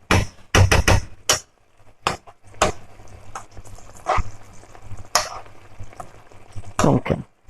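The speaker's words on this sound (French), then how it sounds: "je mélange" Endive confit being stirred in a pan, with a series of sharp, irregular clatters and knocks of a utensil against the cookware over a faint sizzle, close and loud.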